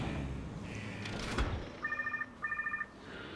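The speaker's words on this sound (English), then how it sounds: "It's an Albertosaurus with a ringtone." Two short bursts of a trilling electronic phone ringtone sound from inside an Albertosaurus in Jurassic World Evolution 2, following some game sounds and a brief thump.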